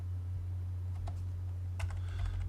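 Keys clacking on a computer keyboard as an AutoCAD command is typed, a few scattered taps followed by a quick cluster of keystrokes over a steady low hum, with no talking.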